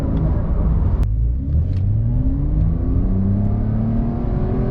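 A Porsche 992 911 Carrera S accelerates hard, heard up close, its engine pitch climbing repeatedly through quick gear shifts in a strong, continuous rising drone.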